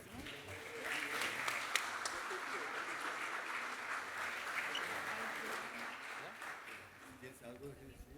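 At an awards ceremony, an audience gives a sustained round of applause that fades slightly toward the end, with faint voices underneath.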